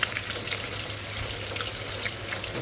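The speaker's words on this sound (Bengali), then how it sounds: "এই হলো মাছের ভাজি ভাজিটা সুন্দর করে করে নিয়েছি একটু কড়া কড়া করতেছি" Fish pieces frying in a pan until crisp, a steady bright hiss and crackle that stays even throughout, close and fairly quiet with no voices.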